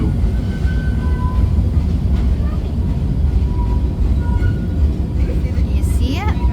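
Oregon Zoo train rolling over a trestle, a loud continuous low rumble of wheels and cars close by, with faint squeals and a brief rising screech near the end; a voice is heard over the noise.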